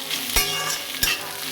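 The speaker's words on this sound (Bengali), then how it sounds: "বেশ মিনিট 2 মতন নাড়াচাড়া করে ভাজা ভাজা করে নেব।" Torn pieces of leftover bread stir-fry with bhujia in a pan, giving a continuous close sizzle with two sharp scrapes of a spatula over about a second and a half.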